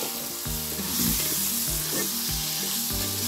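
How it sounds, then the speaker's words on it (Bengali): Cauliflower and other vegetables with rohu fish sizzle loudly in a pan, with repeated scraping strokes of a spatula giving a steady stirring rhythm over the constant frying hiss. "কষা দিই ভালো করে।"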